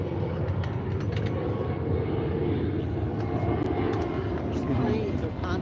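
A plane passes overhead in a desert setting, its low engine rumble steady and broad throughout while people talk nearby.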